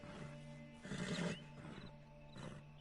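A horse in Red Dead Redemption 2 Online whinnies and snorts in short bursts, a shrill neigh rising in the middle, with a faint steady hum underneath.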